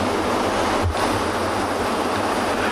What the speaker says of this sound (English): in the background, you can hear the waterfalls of this river rolling down from the rocks